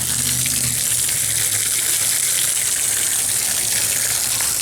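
Water runs in a steady, loud, close stream from a tap, poured over an ice-covered phone to melt the ice, with a constant hissing rush and no talking.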